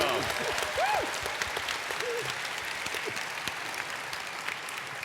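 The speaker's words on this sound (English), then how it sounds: "a big round of applause for Dinnerbone." A crowd applauds steadily at a Minecraft convention panel, dense clapping filling the space, with a few voices calling out over it.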